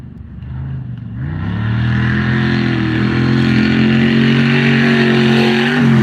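A short course race buggy engine rises from a quieter idle into a loud, sustained rev with climbing pitch, close by in the pits.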